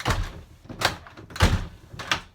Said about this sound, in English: so now if we shut the door,